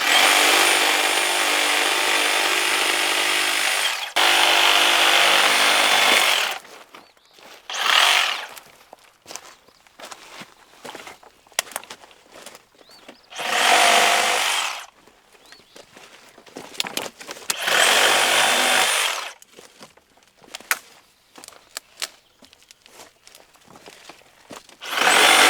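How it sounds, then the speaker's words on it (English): Bursts of a Dewalt 60V reciprocating saw cutting through fairly soft wood, loud and close, coming in several separate runs of a few seconds each with short quiet gaps and small knocks between them. "Well, Sawzall is working good."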